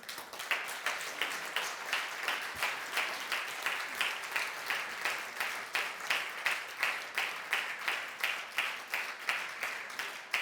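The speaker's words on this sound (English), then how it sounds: "Give yourselves a big, big round of applause." A leadership camp audience gives a sustained round of applause, with rhythmic clapping pulses throughout, steady and fairly loud.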